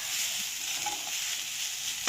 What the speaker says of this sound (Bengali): এখন গ্যাসের ওপর কড়াই বসিয়ে নারকেলটা প্রথমে একটু ভেজে নেব